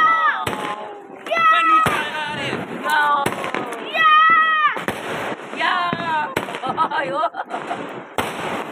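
Diwali fireworks shots, a series of sharp bangs and cracks spaced out over several seconds, with excited voices talking and calling out between and over the blasts.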